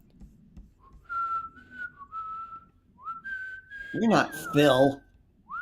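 A guest on a call-in radio program whistles a string of sustained, wavering notes with short pauses between them, and then someone speaks briefly over the end.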